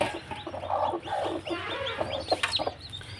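Several white chickens cluck softly and continuously close by, with quick overlapping clucks and a few sharper squawks.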